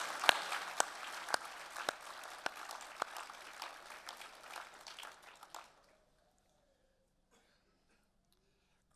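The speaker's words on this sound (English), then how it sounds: "join us in a round of applause to say thank you to all those people who have been a really important part in you achieving this award" A graduation ceremony crowd in a university hall applauds with steady, fairly close clapping and a few sharp individual claps, fading out after about six seconds into near silence.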